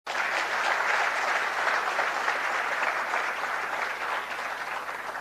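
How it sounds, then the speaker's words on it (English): A hall audience at the inaugural IRMA-HR Summit bursts into applause welcoming dignitaries and panelists, starting abruptly and holding as dense, even clapping for several seconds. "May we please welcome them with a huge round of applause."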